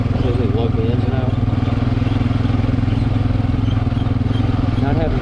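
A Honda 420 ATV engine coasts in fourth gear with a steady, loud, low droning rumble and even pulsing throughout, close up, with no pauses.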